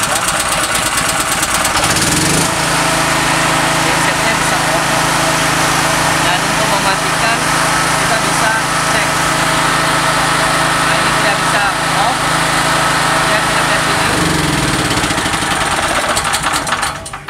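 A generator engine, started by bridging the starter solenoid with a jumper wire, cranks and catches at about two seconds, then runs with a loud, steady drone before cutting off near the end.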